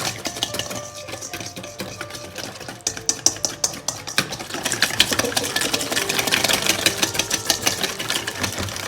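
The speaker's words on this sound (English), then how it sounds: "Then you want to whisk all of that together." Rapid metal whisk strokes rattling against a bowl while mixing ingredients for creamy pesto gnocchi, a fast, steady and close clatter that grows denser and louder in the second half.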